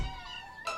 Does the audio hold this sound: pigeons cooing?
no